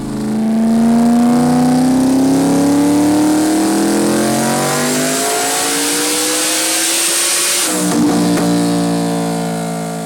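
A loud, dry-sump Coyote engine in a Mustang drag car idles and revs, rising steadily in pitch, then drops abruptly before revving up again; close and powerful.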